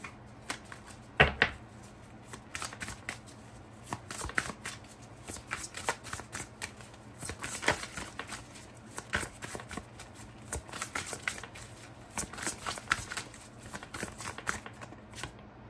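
Tarot cards are shuffled and handled up close: repeated soft riffles, flicks and taps in irregular bursts throughout, fairly quiet, with no talking.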